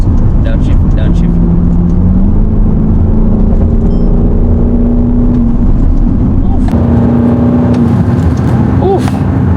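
An Aston Martin DBX SUV engine rumbles and shifts pitch as the gearbox downshifts, with a rising growl toward the end, while people talk over it inside the cabin.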